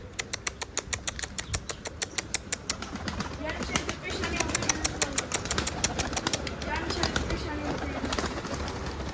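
Pigeons coo softly amid a steady rhythmic clicking or fluttering, with people talking quietly in the background.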